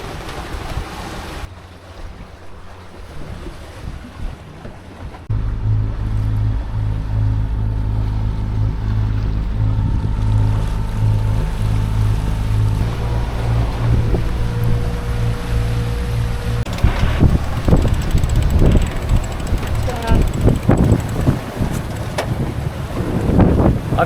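A sailboat clears the lee of Kos and picks up speed in a strong breeze, with a loud, steady rush of wind and water that grows louder partway through, continuous and close, with no talk.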